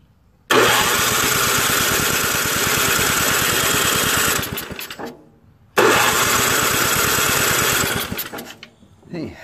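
An Ariens ST824 two-stage snow blower with a faulty carburetor grinds on its electric starter in two long cranking bursts, loud and close, with a brief pause between them and no catch.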